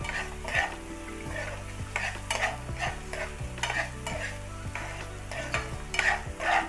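Green peas kachori filling being sautéed in a pan over a low flame, with a steady soft sizzle and repeated scraping stirs of a spoon against the pan, close and continuous, with faint background tones.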